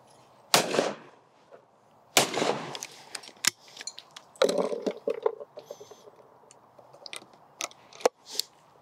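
A side-by-side shotgun fires at clay targets outdoors: three sharp, loud bangs with short decaying tails, spaced a couple of seconds apart, plus a few lighter clicks and knocks between them.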